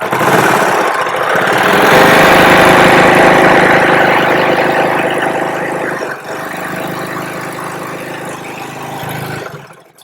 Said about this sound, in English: you're just going to put it into your serger, and then you're just going to sew down